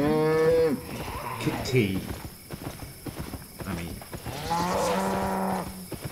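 Mooing of an ox in the fantasy online game Albion Online, several drawn-out lowing calls rising and falling under game music, with someone talking over them.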